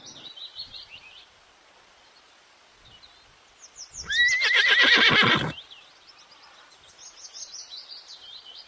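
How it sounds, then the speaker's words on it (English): A horse whinnies loudly once, a shaky rising-then-falling neigh lasting over a second, with birds chirping softly before and after. "H. H for horse."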